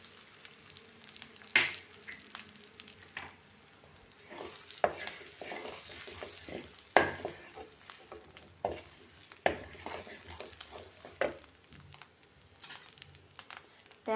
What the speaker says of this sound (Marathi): तर ह्या तेल आणि बटरमध्ये मी हे जिरं घालून घेते।